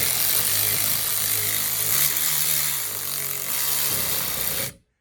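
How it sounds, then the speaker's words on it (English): A ratchet on a Calvan Ford spark plug repair tool runs in reverse, a loud, steady mechanical drone with shifting pitch that stops abruptly near the end. "Put the ratchet in reverse."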